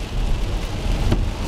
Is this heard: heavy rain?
yes